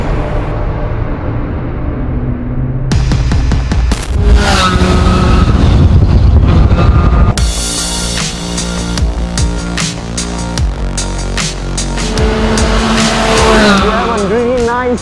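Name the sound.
DSK Benelli TreK 1130 motorcycle engine and raspy exhaust riding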